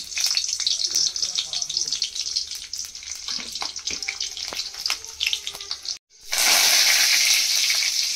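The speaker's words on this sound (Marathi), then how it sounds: "लसूण टाकले फोडणीला।" Garlic hitting hot oil in a kadhai on a stove for tempering, a loud steady close sizzle and crackle throughout, briefly cut off and then surging even louder.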